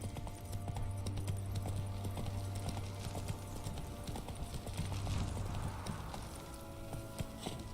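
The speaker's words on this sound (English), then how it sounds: "Whoa there, Roach." Hooves of the horse in The Witcher 3 clip-clop in a steady trotting rhythm over a low droning game backdrop, close and continuous throughout.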